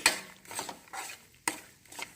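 A spoon scrapes and stirs besan halwa of gram flour in a pan over low heat, giving soft, irregular strokes with scraping bursts and faint sizzling in between, close and fairly quiet.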